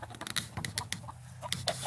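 Chickens clucking in a yard, with short broken bursts of clucks and calls repeating through the clip at moderate distance, over a light background rumble.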